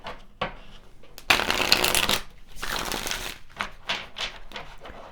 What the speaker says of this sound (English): Let's pull some additional tarot cards to clarify.